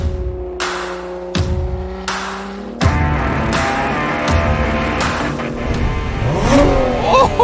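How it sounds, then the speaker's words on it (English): A Lotus Emira sports car engine revving and roaring, loud and close, with rising and falling pitch as it accelerates through gears, sharp bursts between pulls. "This engine just roars."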